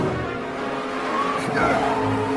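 Race cars roar through the final lap of a Cars movie race, with steady loud engine drone, tire squeal and skidding, and a brief swell of motor noise near the end.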